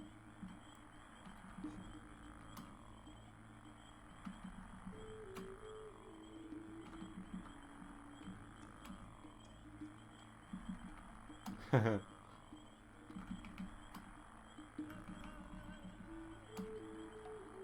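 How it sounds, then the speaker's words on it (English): Frogs croak in a swampy area of the Gothic video game, repeated low croaks steady under ambient game sound, with a brief louder burst partway through. "Those bloody frogs."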